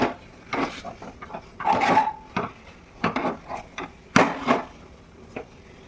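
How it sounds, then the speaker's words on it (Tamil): A utensil scrapes a pan as nutrition flour mix is stirred until it turns brown, in close, uneven bursts of gritty rubbing and scraping with short pauses between strokes. "இது வந்து ப்ரௌன் கலரில் தனித்தனியாக பிரிஞ்சு வர வரைக்கும் இது வந்து கிண்டி விட்டுட்டே இருக்கணும்."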